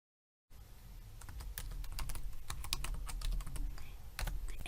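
Username being typed on a computer keyboard during cloud virtual machine setup, a steady run of close, crisp key clicks with no talk.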